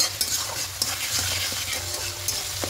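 Tomatoes frying with salt in a pan as a continuous close sizzle, with light stirring scrapes and taps of a utensil against the pan.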